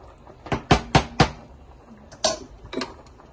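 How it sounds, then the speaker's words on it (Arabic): Metal spoon clinks and scrapes against a pot while salmon penne is stirred, a quick run of four sharp knocks followed by a few scattered taps, close and fairly loud with no talking. "وغنحرك عاوتاني هاد الشيء"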